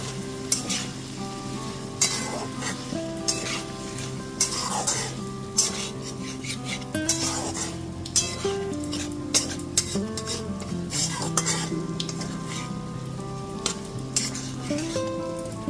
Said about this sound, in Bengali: আলু আর ঝিঙেটা দিয়ে খুব ভালো মতো মশলার সাথে একটু মিশিয়ে নিচ্ছি